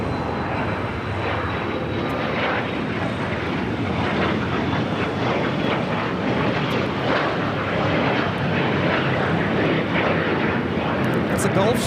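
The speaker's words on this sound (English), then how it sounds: "That's a Gulfstream G280." Steady broadband roar of a Gulfstream G280 business jet at LAX, loud and continuous throughout with a constant engine drone, near and unbroken.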